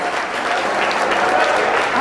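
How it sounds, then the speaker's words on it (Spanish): A church congregation gives steady, dense applause, a full wash of clapping that holds at an even level throughout. "De un fuerte aplauso al Rey de Reyes y Señor de Señores."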